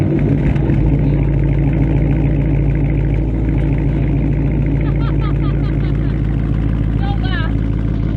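A Dodge Charger's 5.7 V8 with the mid mufflers removed idles and revs in a loud, deep, steady drone close by, while voices chatter over it near the end.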